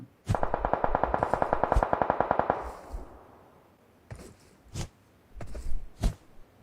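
Gunfire from a shooter game: a fast automatic burst lasting about two seconds with a reverberant tail, followed by several separate single shots, moderately loud and with no voices.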